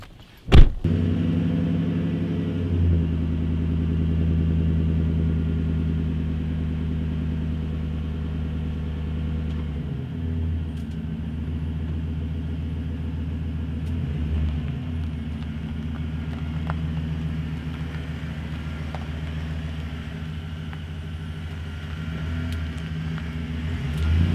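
A lifted pickup truck engine hums steadily from inside the cab while driving along the road, with a brief thump at the start and occasional shifts in pitch.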